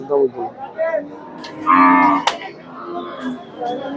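Bull cattle bought at a livestock market moo loudly and close, with a long sustained low call in the middle, while men chatter and bargain around them.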